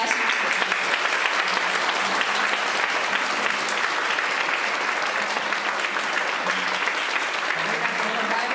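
Sustained audience applause fills the space at an amateur charity performance, dense steady clapping from a crowd with no pauses, loud and even throughout.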